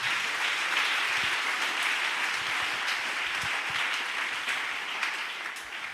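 A church congregation applauds during a sermon: loud, dense clapping fills the whole stretch without a break and tapers slightly at the end.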